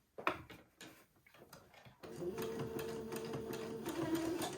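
A sewing machine runs a steady zigzag stitch along a folded seam, its fast rhythmic whir and ticking starting abruptly after a few soft handling taps and continuing at a close, even level.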